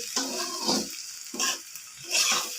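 Noodle masala is stirred in a hot pan in three close, scraping sweeps over a steady sizzle, with short pauses between strokes and no talking.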